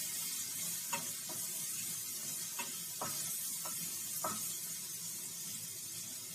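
Ginger roasting on low heat in a kadhai, a soft continuous sizzle broken by a handful of short scraping stirs at irregular intervals.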